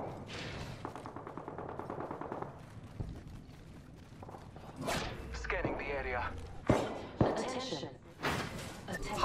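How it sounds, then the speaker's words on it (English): Enemy gunfire in the video game Apex Legends cracks out in sharp, scattered shots that grow louder toward the end, heard under frequent voices and busy game noise. "The enemies are shooting at me."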